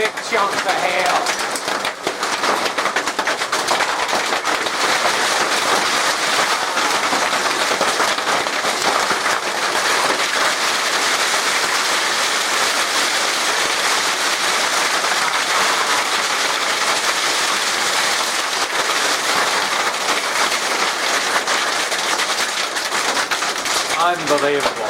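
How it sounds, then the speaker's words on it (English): Hail pounds a greenhouse roof in a supercell storm, a dense continuous hiss-rattle of impacts that stays loud and steady for the whole stretch with no pause. "there's big chunks of hail"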